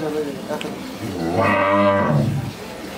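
A cow on a dairy farm gives one long, loud, close moo that swells and fades, with faint background noise around it.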